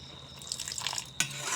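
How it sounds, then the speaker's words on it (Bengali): A small splash of water poured into a cooking pan of kochur loti with sidol, garlic paste, chili powder and salt, a brief soft trickle and drip ending in a sharper splash, quiet and close. "এখন অল্প জল দিয়ে দেব।"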